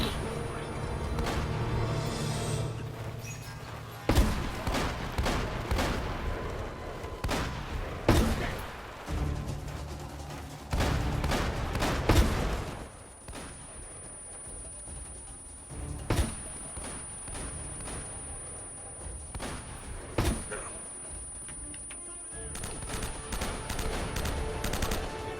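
Gunfire and grenade blasts crackle through a battle in Uncharted: Drake's Fortune, with rapid bursts of shots and heavy thumping explosions coming in clusters between brief lulls.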